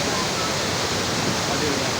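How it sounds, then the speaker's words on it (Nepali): Waterfall at Sundarijal, Nepal: a steady, dense rush of falling water filling the whole moment, close and constant. "फाइनली हामी एउटा मिठो झरनानिर चाहिँ आइपुग्यौँ है त"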